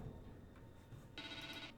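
A telephone rings in The Evil Within 2, a faint, steady electronic trill arriving after a quiet, dark ambient stretch.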